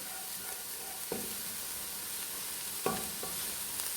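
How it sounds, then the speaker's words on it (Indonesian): Ground chili, ginger and garlic paste fries in a pan with a soft steady sizzle while a utensil scrapes and stirs, giving a couple of sharper clacks against the metal, close up and with no voices. "Kita aduk sampai harum."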